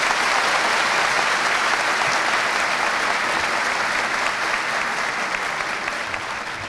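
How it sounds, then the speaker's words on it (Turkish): A hall full of guests at a Turkish national technology talk breaks into strong, sustained applause for a family, a thick steady roar of clapping that fades only slightly toward the end. "Sizlerden bu güzel aileye kuvvetli bir alkış alabilir miyim?"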